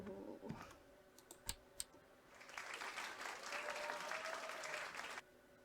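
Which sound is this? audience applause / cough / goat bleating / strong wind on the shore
audience applause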